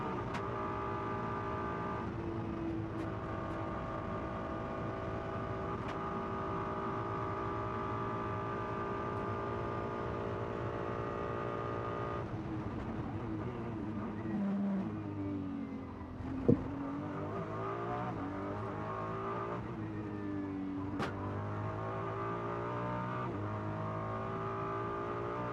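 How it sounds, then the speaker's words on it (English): An onboard FIA GT World Cup race car engine at the Macau Guia Circuit roars steadily at high revs, with gear shifts, braking downshifts and renewed acceleration, loud and continuous throughout. "let's just have a listen to the engine."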